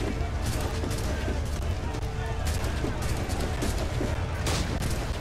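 Assassin's Creed IV game gunfire: a dense, continuous fusillade of shots and booms filling the soundscape at steady loudness, with a voice talking over the battle noise.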